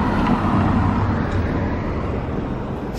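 Steady roar of cars passing on a road near a park, a continuous, fairly loud wash of tire and engine noise with no clear gaps and no voices.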